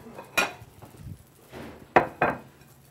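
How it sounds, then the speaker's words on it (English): Dishes are pulled out and set down in a home kitchen, giving a few separate clinks and knocks of crockery and utensils, close by and fairly sharp, with quiet gaps between them and no talking. "So let's get our dishes out."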